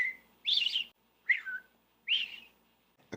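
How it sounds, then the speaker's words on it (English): Three short bright phrases of a robin's song ring out one after another with gaps between them, clear and fairly close against a quiet background. "The song of the robin that you will hear early in the morning"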